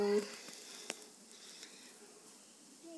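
Bottle gourd pakoras fry in hot oil with a faint, steady sizzle, broken by a couple of soft crackles.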